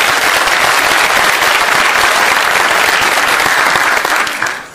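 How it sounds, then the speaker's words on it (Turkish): Loud, full audience applause at a Turkish entrepreneurship event, a thick continuous wash of clapping from a large crowd that holds steady before tapering off at the end. "O alkışı da ona göndermiş olalım."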